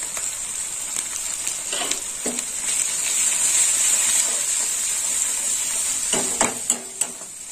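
Meat curry sizzles and fries loudly in a pan right after red chili powder is added, a steady close hiss with occasional stirring scrapes and clatters toward the end.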